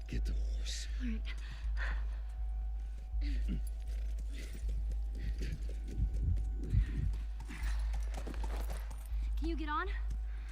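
A horse's hooves clip-clop in a steady walking rhythm in the video game The Last of Us, moderately loud under a low constant hum, with voices speaking over parts of it.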